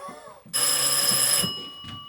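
A telephone bell rings loudly for about a second on a stage during an amateur theatre play, then fades, with faint voices and room noise around it.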